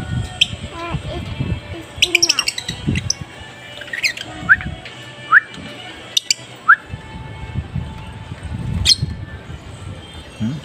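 An African lovebird gives sharp, scattered squawks and chirps while eating, brief bursts spread over soft background noise with faint voices nearby.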